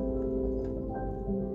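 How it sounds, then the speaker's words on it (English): A used Woodchester upright piano with its celeste practice pedal engaged, felt between hammers and strings, gives soft, muted sustained notes at a quiet level. "it locks a felt in between the hammers and the strings,"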